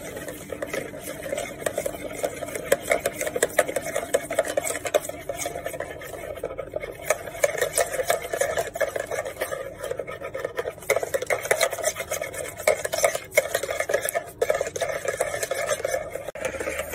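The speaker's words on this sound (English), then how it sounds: "Now you're going to mix the sugar, milk," Sugar, milk and egg for pancake batter being whisked in a bowl, a steady, continuous scraping and swishing that runs without pause from start to end.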